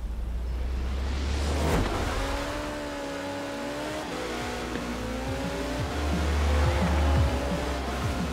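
Maserati MC12 driven in the racing game Forza Horizon 4, its engine droning steadily with rising and falling pitch as it accelerates, plus brief tire noise, loud and continuous with no talk.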